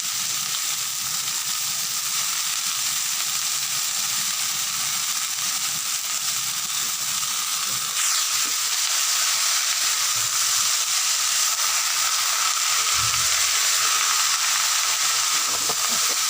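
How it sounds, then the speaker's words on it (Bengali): Boiled banana flower frying in oil in a pan, a loud, even sizzle and hiss lasting throughout, with a couple of low thumps near the end and no speech. "এবার এর মধ্যে আমি মোচাগুলো দিয়ে দিচ্ছি সেদ্ধ করা মোচাগুলো"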